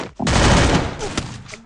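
Rapid bursts of gunfire in the video game Free Fire, loud and dense for about a second, then scattered shots and a single sharp crack trailing off.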